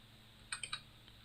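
Three quick keyboard key presses on a computer keyboard click close together, crisp and faint against a quiet background, with no talking.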